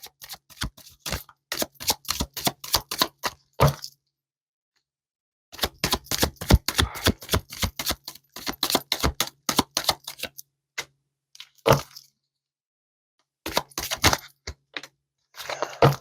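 Tarot cards being shuffled in quick rapid bursts of crisp, snappy riffling clicks, several runs separated by short silent pauses, close and fairly loud with no talking.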